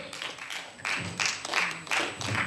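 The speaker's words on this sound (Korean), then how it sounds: "우리 시간에 많은 격려와 박수 부탁드립니다." An audience at a Christian arts festival in a women's hall claps for a Korean traditional-music praise troupe. The applause comes in several swelling bursts, moderately loud, with no speech over it.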